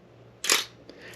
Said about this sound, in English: Start to hear the action of the shutter, the two different shutters moving